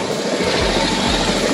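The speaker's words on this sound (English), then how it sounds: "As I said before, get back to the chopper. Head low." A tour helicopter idles on a snowy landing spot near Mount Everest, a loud, close, steady engine roar with a throbbing rotor pulse, heard without talking.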